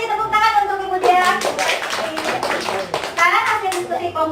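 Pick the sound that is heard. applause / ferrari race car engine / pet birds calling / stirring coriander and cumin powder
applause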